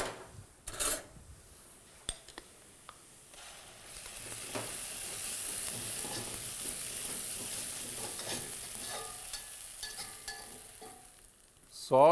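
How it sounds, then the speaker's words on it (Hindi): Ginger garlic paste sizzles steadily in hot oil while frying for murgh musallam, a continuous bright hiss with occasional clinks and stirring scrapes, moderately close and without talk. "यही वक्त है अदरक लहसुन पेस्ट डालने का।"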